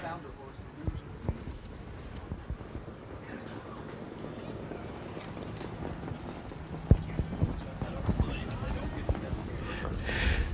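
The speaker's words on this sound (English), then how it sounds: "They are off and trotting" Harness racing horses trot off from the start at a race meeting, a continuous patter of hoofbeats mixed with broad track and crowd noise that grows busier toward the end.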